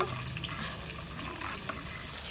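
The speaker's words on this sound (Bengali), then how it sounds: "জলের সঙ্গে খুব ভালো করে মিশিয়ে নেব।" Mustard and poppy seed paste with green chilli paste, water, turmeric powder and salt being stirred together in a bowl: a steady, close, wet swishing and scraping that keeps going without a break.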